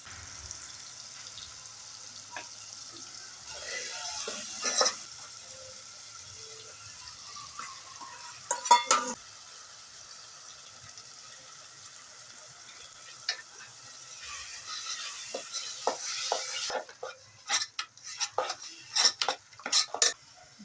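Olo, an eggplant dish, being stirred in a pot over a chulha stove, with soft sizzling beneath intermittent metal spoon scrapes and clinks that grow busier toward the end.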